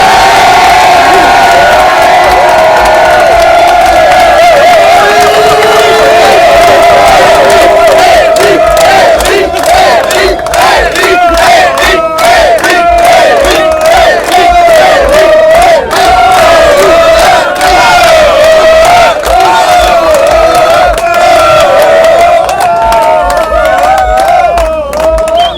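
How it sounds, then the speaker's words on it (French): A large crowd on the pontoons at Saint-Malo cheers, whoops and shouts loudly and continuously to encourage a sailor before the Route du Rhum race. "on va se tourner vers eux et on va leur demander d'encourager Eric pour une belle route du Rhum."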